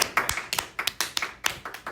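A small group claps for a couple of seconds, a quick, uneven run of sharp, close handclaps with no voices.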